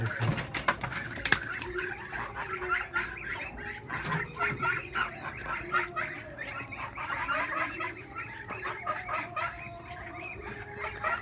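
Ducks, including small young ones, call repeatedly nearby in a busy, overlapping chorus of short honks and chatters that continues without a break.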